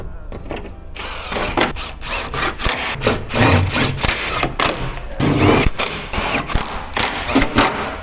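Impact gun working on a Range Rover Sport L494 during an oil service, repeated close, loud bursts of rattling hammering between short pauses, the ratcheting clatter starting and stopping several times.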